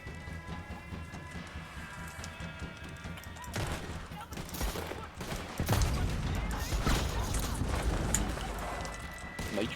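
Gunfire from the Red Dead Online game, with a burst of several shots about halfway through and rain-like noise that grows louder afterward, all under French voices talking.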